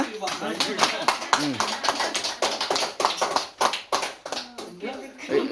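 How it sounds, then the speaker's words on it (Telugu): People at a small birthday felicitation at an ashram clap in quick, uneven bursts of close handclaps, with voices talking over them. "మా జోరుగా క్లాప్స్ కొట్టమ్మా"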